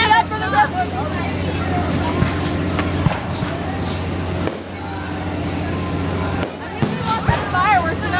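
Fireworks go off outdoors, with sharp cracks and booms scattered under the steady chatter of a crowd, while people nearby talk throughout.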